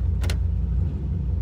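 A 1993 Chevy K1500 with a 4L60E transmission, its fluid freshly changed, idles with a steady low rumble, and a brief clunk with a metallic jingle marks the shift into gear, close and without talk.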